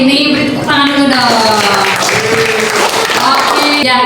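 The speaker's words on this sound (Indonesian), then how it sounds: "beri tepuk tangan dulu dong" Classroom students applaud together in a steady burst of clapping lasting several seconds, with voices and a few tonal cheers mixed into the crowd noise.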